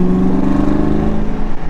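A rebuilt 1994 Ford Mustang GT engine drones steadily while driving. Its low, even hum holds close and loud for a couple of seconds, with no voices over it.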